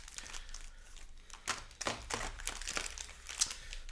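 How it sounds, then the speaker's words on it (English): Magic: The Gathering trading cards from a Modern Horizons 3 play booster box being shuffled by hand, a dense run of papery riffles and crinkly card slaps, close and fairly quiet, with no talking. "I'm going to do one more shuffle here"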